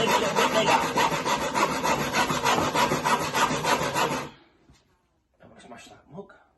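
Hand saw cutting wood in a DIY workshop, rapid rhythmic rasping strokes close up for about four seconds, then stopping, followed by a brief quiet stretch and a few soft sounds.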